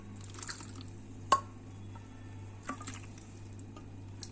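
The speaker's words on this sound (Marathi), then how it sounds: "आता मी याच्यामध्ये हे पाणी आहे ते घालून सगळं एकत्र करून घेते।" Water is stirred into finely ground coconut paste for Malvani solkadi, giving soft wet squishes and small drips with a couple of sharper clicks against the bowl, quiet over a steady low hum.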